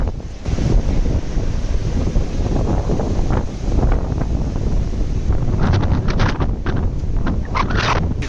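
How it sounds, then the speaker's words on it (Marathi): Strong sea wind at Kanyakumari buffets the microphone with a constant roaring rush, and surf faintly in the background. "इथं वारा पण बराच सुटलेला आहे भरपूर वारा आहे इथं"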